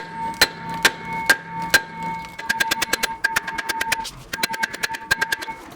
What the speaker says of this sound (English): that's where this mallet comes into a factor. So I hit right in the middle, kind of break that rust up